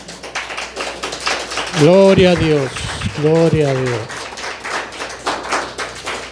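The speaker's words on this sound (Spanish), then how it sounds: "Denle un aplauso al Señor" A church congregation claps steadily in a dense, close patter while voices chant aloud over it.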